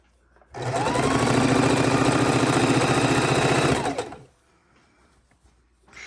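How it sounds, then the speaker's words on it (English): A sewing machine stitching quilt border strips runs in one steady, fast mechanical whir for about three and a half seconds, close and loud, then stops into near quiet. "And then we're going to sew some more."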